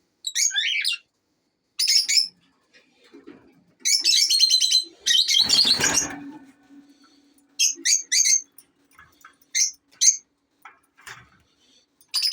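Pet cockatiels in a bird room chirp and squawk in repeated short bursts, with a louder, harsher squawk in the middle and whistled calls scattered around it, fairly close and with no talking.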